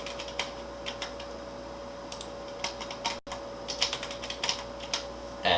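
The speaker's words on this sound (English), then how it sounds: "I'm going to type in a secure password." Quick keystrokes patter on a computer keyboard in short irregular runs, close and fairly quiet, as a password is entered, with a steady electronic hum underneath.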